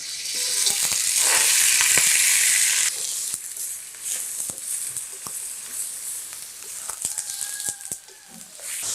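Chicken sizzles in a karahi over a powerful stove, a loud, bright hiss for the first few seconds that settles into steadier, quieter frying with occasional crackles and stirring clinks.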